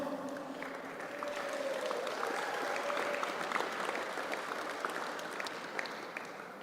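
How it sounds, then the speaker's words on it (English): A crowd at a pickleball championship court applauds a team, with steady, sustained clapping from many hands, fairly distant and soft. "A huge round of applause for your Northern Crocs."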